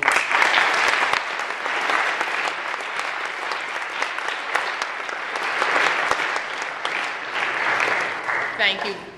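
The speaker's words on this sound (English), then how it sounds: "If they do applaud, good on you." Sustained applause from an audience at an award event in a chapel, steady and fairly loud for several seconds, with a few cheers mixed in.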